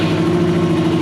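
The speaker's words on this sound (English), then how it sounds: "let's get a little clip of this exhaust, because it sounds so good. The Akrapovic slip-on exhaust is so good." Steady idle of a Yamaha YZF-R3 motorcycle fitted with an Akrapovic slip-on exhaust, likely unbaffled: a loud, close, even drone with no change in revs.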